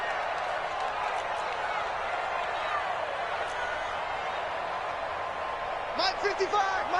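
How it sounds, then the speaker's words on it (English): Stadium crowd in a PS4 football video game roars steadily ahead of a big third down, a dense continuous wash of cheering that holds throughout, with a few sharper bursts and whistles rising near the end. "the crowd getting into it as we come up on a big third down"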